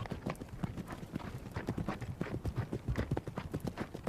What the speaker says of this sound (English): the Asiatic wild ass,